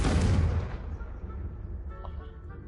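An explosive Confringo spell going off in a Hogwarts video game, a single heavy booming blast at the start that fades into a long rumbling decay.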